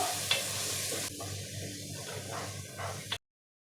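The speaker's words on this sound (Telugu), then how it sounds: "నెక్స్ట్ వచ్చి పచ్చిమిర్చి కరివేపాకు ఇవన్నీ వేసి బాగా ఫ్రై చేసుకోవాలి" Green chillies and curry leaves frying in a pan for a spicy fish curry, a dense continuous sizzle with a couple of brief utensil taps before cutting off abruptly.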